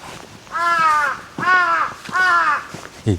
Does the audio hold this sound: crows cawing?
yes